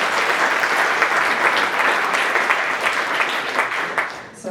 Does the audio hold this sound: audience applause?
yes